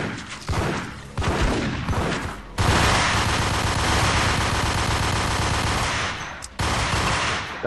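Rapid, loud gunfire rattles through a Max Payne video game firefight, dense automatic bursts and a sustained barrage with brief gaps between them.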